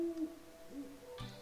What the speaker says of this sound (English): I think I hear an owl.